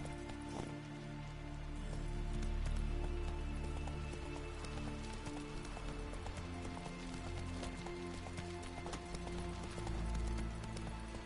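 The horse Roach galloping in a video game, with rapid rhythmic hoof clip-clops over steady rain, continuous and fairly close.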